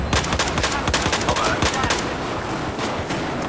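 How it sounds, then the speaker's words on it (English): Rapid gunfire in Battlefield 4's Operation Locker map, including shotgun blasts, a dense, loud barrage of sharp cracks in quick succession, close and relentless throughout. "who revived me while this guy shooting his shotgun at me?"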